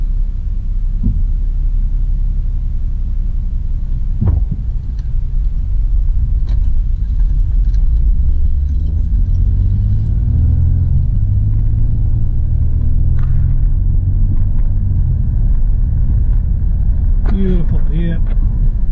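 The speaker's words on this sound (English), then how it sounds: "Slow traffic here." A car creeping along in slow road traffic, a loud continuous low engine and road rumble throughout, with occasional brief clicks and a voice talking over it.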